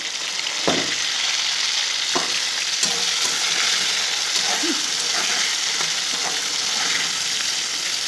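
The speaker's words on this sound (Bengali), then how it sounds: "টমেটোটা ভাজা হচ্ছে।" Tomato sizzles steadily in a hot pan, a constant crackling hiss with a few clinks of a utensil stirring.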